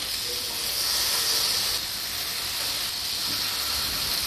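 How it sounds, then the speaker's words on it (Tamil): Marinated chicken tikka pieces hit a hot buttered grill pan on a gas stove, giving a steady, even hiss of sizzling that runs unbroken throughout with no talking. "நம்ம இதில் சிக்கன் பீசஸை போட்டுடலாம்."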